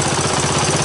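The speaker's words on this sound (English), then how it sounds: "Seems to be idling away." A 1983 Honda ATC200X three-wheeler engine idles with a steady, fast, even putter, loud and close, with no talk.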